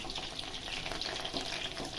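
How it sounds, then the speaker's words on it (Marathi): Garlic tempering in oil for a traditional tribal crab dish, a steady dense hiss of sizzling close up, continuous and even throughout without any voices. "आता आपण त्याला मस्तपैकी लसणाची फोडणी"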